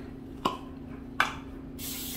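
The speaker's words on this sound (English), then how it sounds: "We're just going to do a little spray in there." Two short quick bursts of cooking-oil spray hit an air fryer tray before rib eye steaks go in, each a sharp brief hiss, followed by a steadier airy noise at the end.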